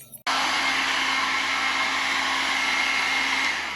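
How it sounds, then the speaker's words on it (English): A blow dryer starts abruptly and runs at a steady, loud whir over alcohol dyes on an epoxy vanity top, holding one constant tone with no talking. "And so there's my blow dryer"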